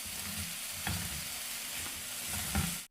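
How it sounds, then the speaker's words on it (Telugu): Soaked moong dal frying over a low flame on the stove, a soft continuous sizzle with a few light stirring scrapes, ending abruptly; nearby and fairly quiet, no speech. "ఇప్పుడు స్టవ్ని లో ఫ్లేమ్లో పెట్టుకొని ఈ పెసరపప్పును కూడా ఒక 2-3 నిమిషాల పాటు ఫ్రై చేసుకుందాం"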